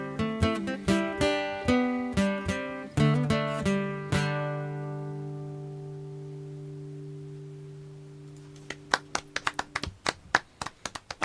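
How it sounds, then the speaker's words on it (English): Hand claps ring out along with a sung pop song, sharp regular claps over sustained notes at first, then a sparser run of loud, close claps after the music drops away. "I love the clapping."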